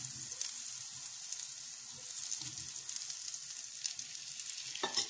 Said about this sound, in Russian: Мы расплавляем в сковороде.